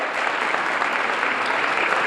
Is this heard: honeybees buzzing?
no